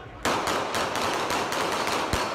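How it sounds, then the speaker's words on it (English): Several rapid gunshots from police officers' handguns during a campus shooting involving Portland State University police, sharp cracks in a quick irregular burst over a loud noisy background, with faint voices. "Portland State University police officers draw their guns, and then we hear multiple gunshots."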